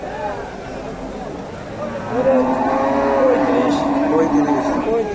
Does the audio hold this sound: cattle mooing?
yes